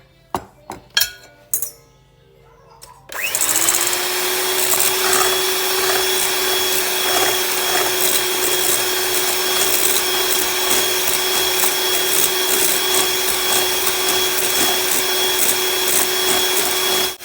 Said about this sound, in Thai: ปั่นเนื้อวิปครีมได้แบบนี้แล้วนะคะ